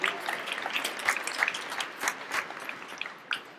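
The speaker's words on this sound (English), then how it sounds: "Give yourselves a round of applause." Dense crowd applause at the outdoor ribbon cutting for Prince George's Southern Area Aquatics and Recreation Complex, a steady patter of many hands clapping at moderate volume for the whole stretch, with a few sharper claps standing out.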